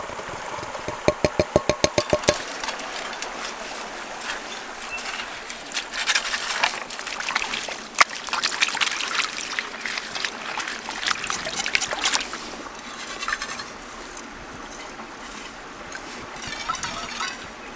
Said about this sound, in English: I'm just going to tip it straight into the bottle and collect everything.